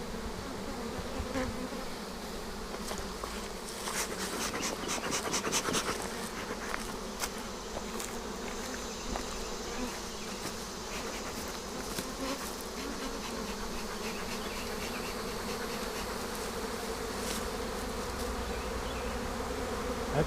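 Field bees buzzing around a swarm box, a dense steady drone of many insects close by and at length, with occasional louder passes near the listener and no talking.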